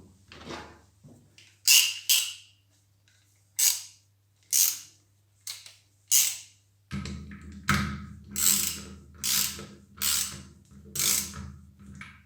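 A start-stop valve on a Nilfisk C 130.1 pressure washer is tightened with a tool, giving a steady series of sharp ratcheting clicks, close and loud, first spaced apart and then coming faster over a low hum, with no speech.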